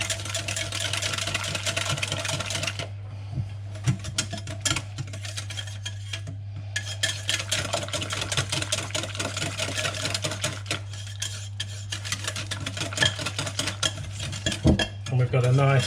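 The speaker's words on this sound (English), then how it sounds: "Put the final bit of milk in. Give that" Yorkshire pudding batter whisked with milk in a bowl, a steady busy clatter of the whisk against the bowl, fairly close, over a constant low electrical hum, with no talking.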